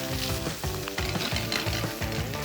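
Shrimp sear in a hot pan with a loud, dense sizzle and rhythmic stirring scrapes, close up and without speech.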